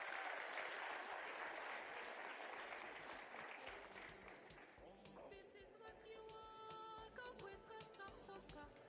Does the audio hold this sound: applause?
yes